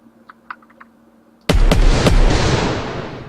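Gunshots fired in an Unreal Engine 4 ballistics plugin demo: a few faint clicks, then three sharp, loud shots in quick succession followed by a long, rumbling echo that slowly fades.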